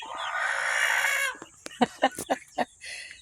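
A cockerel lets out one long, loud crow, then a quick run of sharp clucks close by.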